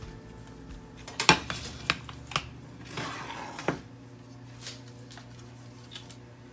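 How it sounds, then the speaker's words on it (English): An old plate set down beneath a no-bake chocolate pie, several close ceramic clinks and knocks in a short cluster followed by lighter scattered taps, quiet room otherwise. "And I'm going to put a plate under this so that it doesn't make a mess."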